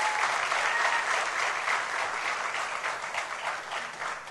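Audience applause at a music competition award ceremony in Gdynia, a steady wash of many hands clapping that fades slightly toward the end, with no talk over it.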